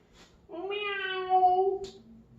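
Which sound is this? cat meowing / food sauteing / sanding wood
cat meowing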